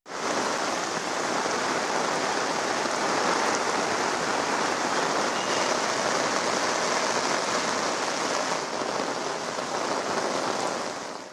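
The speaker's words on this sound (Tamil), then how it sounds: "20 நிமிடங்களுக்கு மேலாக கனமழை பெய்ததால்" Heavy monsoon rain falls over a town in Pudukkottai, a steady, loud wash of hissing drops on surfaces that continues evenly throughout, with no talking.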